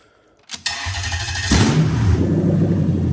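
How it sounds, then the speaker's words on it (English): A Lexus GS with a UZ-FE VVT-i V8 engine cranks with a couple of short bursts, catches, and settles into a steady idle that grows louder and rougher after a moment, no talking. "So let's start her up now."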